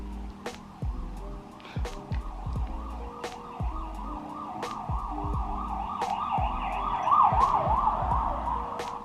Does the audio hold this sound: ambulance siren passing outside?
yes